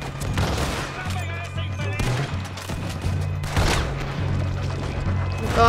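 Gunfire in the Red Dead Redemption 2 video game during a story mission shootout, with repeated booming shots in quick, uneven bursts over a low musical drone, fairly loud, and a voice occasionally speaking over it.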